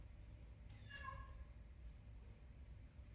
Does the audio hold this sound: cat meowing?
yes